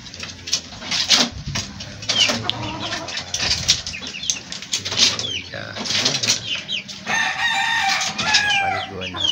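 Chickens cluck and squawk close by, with wings flapping, and a rooster crows loudly near the end in a rural yard at feeding and bathing time, while a voice talks in the background.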